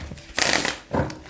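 Tarot cards being shuffled by hand, with two close bursts of riffling and rustling, a longer one followed by a shorter one after a brief pause.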